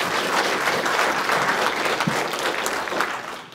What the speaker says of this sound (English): Let's give a round of applause for Nathan and his group.